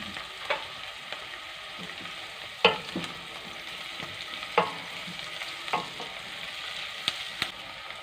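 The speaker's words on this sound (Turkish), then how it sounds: "Biberimizi de biraz kavurduktan sonra domatesimizi" Beans and chopped peppers sauté in oil in a pan for a Turkish yağ bozbaşı stew: a steady soft sizzle with occasional sharp clicks and scrapes from stirring, close and fairly quiet.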